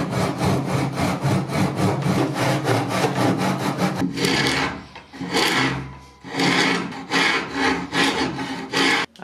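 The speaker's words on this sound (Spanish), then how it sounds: "hacer un pequeño corte acá y aplanar con una lima, una escofina de madera" A wood rasp scraping back and forth across a rustic wooden tabletop piece, steady rhythmic strokes close up, then shorter separated passes as the surface is flattened.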